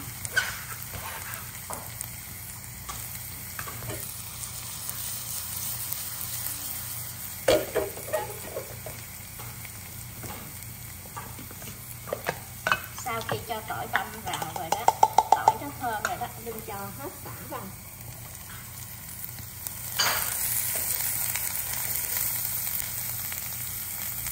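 Minced lemongrass and garlic fry in a spoonful of hot oil with a continuous sizzle and bursts of stirring and spattering, while a voice talks over the cooking.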